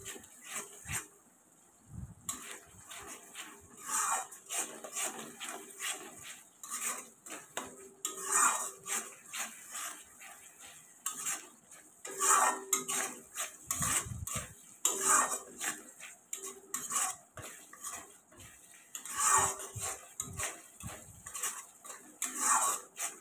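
A restaurant-style fish curry is stirred in a pan as it cooks down with yogurt, the spoon making repeated close metallic clinks and scrapes against the pan at an uneven rhythm over a quiet background.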